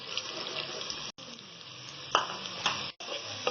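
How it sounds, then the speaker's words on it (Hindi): Sliced medium onion frying in oil in a pan, a steady close sizzle with a few sharp stirring scrapes and two brief dropouts. "अब इसको अच्छे से फ्राई कर लेंगे।"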